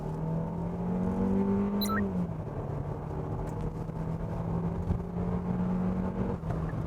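A Kia Seltos with a 198-horsepower engine and new eight-speed automatic in sport mode, a steady engine drone heard from inside the cabin with a rising tone shift midway, continuous and moderately loud, no talk.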